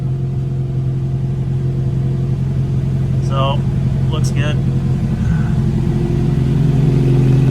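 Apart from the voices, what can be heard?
car engine idling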